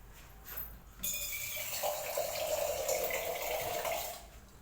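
Water pours into a cooking pot of bone-in meat curry in a pressure cooker, a steady close splashing stream that starts abruptly, runs for about three seconds, then tapers off.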